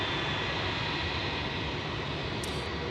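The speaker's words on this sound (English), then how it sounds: "The Jetstar just coming in. Engines facing us, which is what all the fuss and the noise is about." A Jetstar jet airliner arriving at night at Melbourne, its engines facing the listener, a steady, dense roar that holds loud and unbroken throughout.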